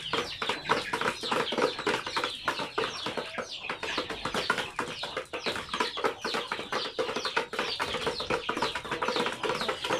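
Chickens cluck continuously around a large rooster kept with breeding hens, a dense flock chatter of close, overlapping clucks with no talking.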